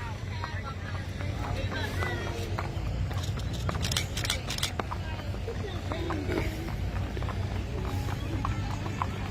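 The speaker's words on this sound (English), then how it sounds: "Several horses coming through." Several horses walk past at an outdoor community event on a main street, their hooves clip-clopping in a steady, fairly close, overlapping rhythm under constant crowd noise and nearby talk.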